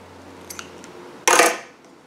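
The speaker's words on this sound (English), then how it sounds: "Then you can turn your work and cut your previous colored yarn." Scissors snip through acrylic yarn while crocheting a Christmas bear hotpad, a single sharp crisp cut that is close and fairly loud, followed by a brief rustle, with a few faint small clicks just before it in a quiet room.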